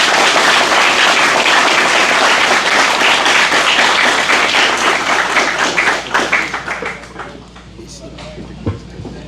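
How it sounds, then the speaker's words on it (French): A large audience applauds loudly and warmly for the rector of UPEGA, Dr. Jean-Rony Métis, at a university ceremony; the dense clapping holds steady for about six seconds, then thins out and tapers away. "je vais vous demander d'applaudir très chaudement, mesdames, messieurs, le recteur de l'UPEGA"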